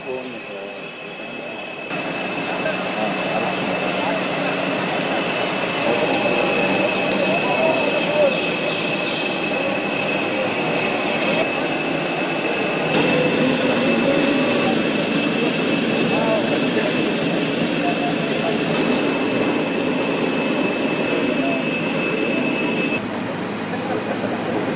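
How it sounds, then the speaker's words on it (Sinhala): A special passenger aircraft arrives at Mattala airport, its jet engines making a loud, steady roar with a high whine that holds throughout, while voices are heard beneath. "විශේෂ ගුවන් යානයක් ඊයේ මත්තල ගුවන්තොටුපළ වෙත පැමිණ තිබෙනවා"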